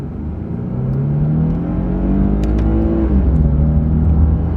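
A car pulls away from a stop, its engine note climbing loudly and steadily, then dropping as it shifts into the next gear and begins rising again, close and continuous.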